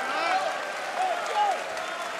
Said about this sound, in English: The crowd appreciating this too.